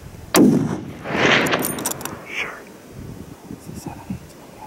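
A single sharp, loud rifle shot cracks out during a Dall sheep hunt in the mountains, followed by rustling and soft, hushed voices.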